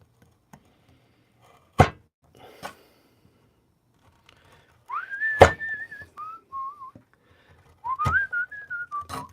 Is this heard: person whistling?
yes